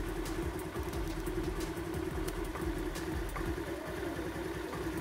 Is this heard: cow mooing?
no